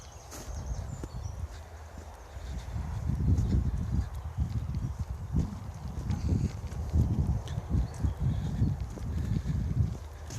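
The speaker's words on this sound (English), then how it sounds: "we've got a horse in the field" A horse walks through a field on an outdoor countryside walk, its hooves thudding in a steady, uneven series of dull clip-clops at moderate distance, with wind noise rumbling on the microphone throughout.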